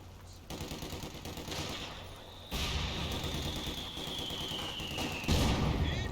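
Machine gun fire in a World War II video game, a dense continuous rattle of shots mixed with game noise and a falling whistle tone, fairly quiet and steady with no one talking.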